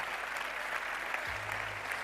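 Applause from an audience at a sports awards ceremony, a steady wash of clapping across the hall, moderately distant and even, with a low hum entering near the end.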